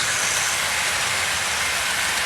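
A Tri-ang model Bullet Pacific locomotive runs on the track with a steady, close whirring and rumbling, a continuous even wash of noise without talk.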